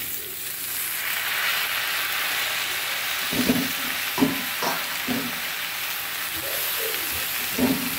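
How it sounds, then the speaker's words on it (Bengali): Spinach and small snails frying in a pan, a steady broad sizzle with a few soft stirring scrapes and knocks in the second half, close and fairly loud. "পালং শাকটা দিয়ে দেবো।"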